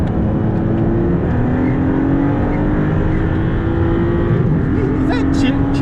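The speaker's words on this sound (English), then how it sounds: "chirping from the turbos" Onboard a Maserati MC20 at speed on the Phillip Island circuit, the loud steady engine drone gives way to brief high turbo chirps late on, with people talking over the noise.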